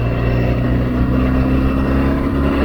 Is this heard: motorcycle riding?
yes